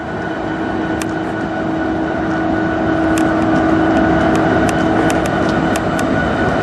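CN freight train with two locomotives grinding up a grade inside a tunnel, a steady loud rumble with a sustained tonal hum and faint intermittent high clicks, the rear of the train still climbing.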